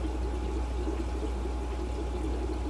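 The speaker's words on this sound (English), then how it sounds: "That's just the noise you hear if you would walk into this room right now from this air pump." A piston air pump in a fish room gives a steady low hum, with constant aquarium bubbling and trickling water close by.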